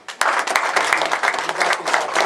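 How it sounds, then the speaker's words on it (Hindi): An audience claps loudly and steadily in a welcome for Pandit ji, a dense, continuous wash of applause running the whole time without any voices. "हम लोग पंडित जी का हम स्वागत के लिए जोरदार से तालियां का स्वागत करें"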